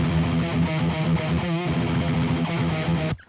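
Thick, saturated electric guitar tone through a Tyrant distortion pedal, playing a cover, sustained chords with a brief wavering bend midway, cutting off abruptly at the end.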